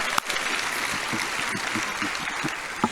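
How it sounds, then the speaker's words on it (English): Audience applause at a borough address fills the room as a dense, even wash of clapping, with a few sharper individual claps standing out. "So let's give another round of applause for that, please"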